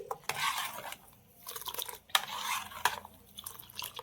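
Food being stirred in a clay pot over a clay stove, with scraping and clinking strokes in irregular bursts, close and fairly quiet, and short gaps between them.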